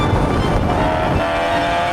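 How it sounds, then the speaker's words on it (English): A race car engine drones loudly through a corner as the driver works the throttle, the tone holding steady then easing slightly as the revs shift, close and continuous. "You can hear my throttle inputs going trying to get back on throttle as soon as I can."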